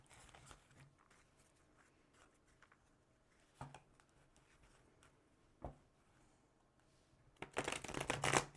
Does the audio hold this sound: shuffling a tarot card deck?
yes